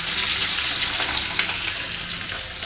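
Steady oil sizzle and crackle from seafood frying in a pan, a dense hiss with occasional small pops, close by and fairly quiet.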